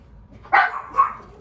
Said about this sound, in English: The dogs are coming back in.